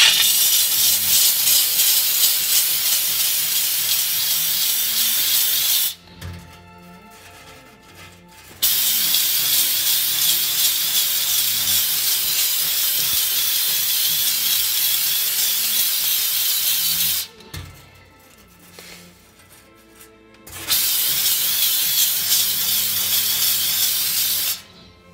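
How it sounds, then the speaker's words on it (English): A HomeRight SteamMachine steam cleaner blasts a greasy stain inside an oven, giving loud, steady hissing spray in long bursts broken by two short pauses, close and without talk. "I'm going to use nothing but the steamer to get"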